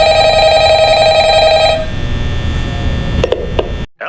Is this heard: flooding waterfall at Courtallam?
no